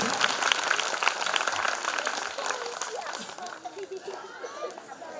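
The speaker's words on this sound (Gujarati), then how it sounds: "એમને પણ આપણે જોરદાર તાળીઓથી વધાવશું" A crowd applauds steadily at a 26 January event, a dense wash of clapping with a murmur of voices, tapering off slightly toward the end.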